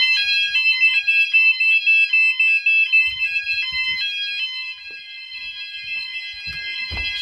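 E.M.S. FirePoint 5004 fire alarm sounders ring together with piercing, warbling electronic tones that pulse in a fast, repeating pattern, close and loud, overlapping continuously, with faint handling noises underneath.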